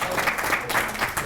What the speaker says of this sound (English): That's worth giving them another round of applause